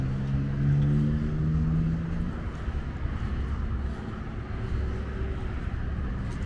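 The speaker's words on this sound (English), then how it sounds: "There's a new electric bus." A new electric bus rolls past on a Toronto street, its low steady hum and tonal whine rising early on, then fading into broadband traffic noise, with nearby vehicles and road rumble continuing throughout.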